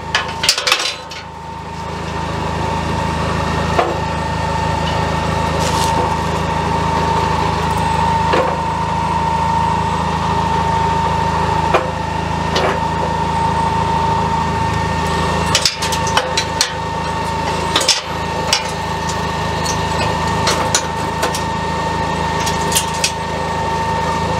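A Kubota RTV520 utility vehicle idles close by with a steady engine drone while its plow blade is raised, with scattered clanks and knocks over the running motor.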